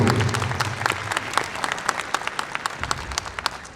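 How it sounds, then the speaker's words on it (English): An audience at a cosplay contest at Visioncon 2023 applauds a contestant, a dense burst of many hands clapping that thins out into scattered individual claps, with some crowd murmur underneath. "let's give him a big round of applause if we could"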